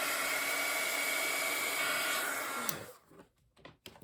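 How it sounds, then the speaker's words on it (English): A heat gun blows a steady, loud rushing roar while drying ink on a paper craft, then cuts off near the end, leaving a few soft rustles. "I'm going to come in with my heat gun and just dry this."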